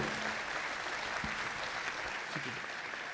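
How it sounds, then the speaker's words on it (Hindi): Audience at a Hindi poetry recital gives steady applause to a poet, a continuous even patter of many hands at moderate volume, with a few faint low murmurs underneath. "जोरदार तालियां दीजिए आदरणीय राजेश रेड्डी साहब को"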